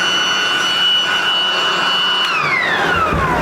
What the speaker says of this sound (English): Oh yeah, we have a successful fan, or blower.